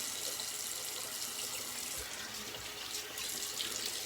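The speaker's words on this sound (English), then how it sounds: "And we'll activate it a bit with a cold water rinse." Tap water runs steadily into a sink for a cold water rinse of a shaving brush and lather, a close, continuous hiss and splash with no voices.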